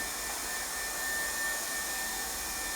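A hot air welding gun works a corner seam of a swimming pool liner, producing a steady close-up blowing hiss with a faint high whine running through it.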